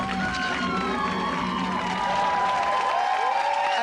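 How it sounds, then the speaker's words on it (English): Studio audience applause and cheering on the 1993 Channel 4 show The Word: a loud, dense wash of clapping and crowd noise holding steady for a few seconds, with a few voices rising through it. "And keep that applause going"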